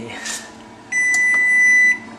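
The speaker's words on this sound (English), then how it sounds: "I let the timer go off." An oven timer beeps with one steady, high electronic tone lasting about a second, close and clear over faint room noise, after a brief rustle.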